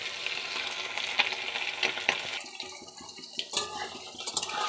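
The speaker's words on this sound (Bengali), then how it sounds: "এইভাবে আমি মাংসের টুকরোগুলোকে ভেজে নিচ্ছি" Marinated chicken pieces sizzle in hot oil in a pan for chili chicken, a steady hissing crackle that thins out partway through, with a few light scrapes.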